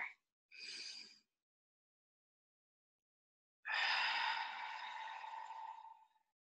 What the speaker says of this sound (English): 3 more deep breaths here.